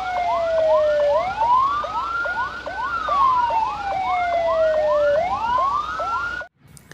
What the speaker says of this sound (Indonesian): Wow, ini ada mobil ambulans teman-teman.